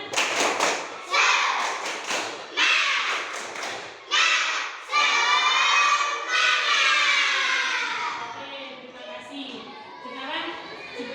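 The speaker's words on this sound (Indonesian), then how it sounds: "Kita tepuk semangat dulu." A primary school class performs a rhythmic 'tepuk semangat' clapping chant, with bursts of patterned claps and thumps alternating with children's voices chanting together in a classroom.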